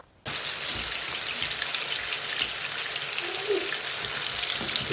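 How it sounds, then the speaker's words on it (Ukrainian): Steady, loud sizzling of cutlets frying in oil in a pan over medium heat, a continuous crackle that starts abruptly and carries on without pause. "Розігріваємо сковорідку з олією і смажимо на середньому вогні наші котлетки."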